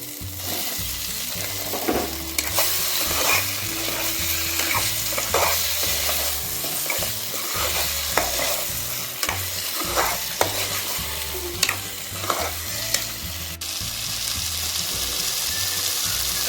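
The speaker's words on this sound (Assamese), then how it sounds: "আলুখিনি দিয়াৰ পাছতে এতিয়া মই পিঁয়াজকেইটাও দি লওঁ।" Potatoes and onions stirred and frying in a pan for an onion curry: a steady, close sizzle with repeated scraping stir strokes, and no voices.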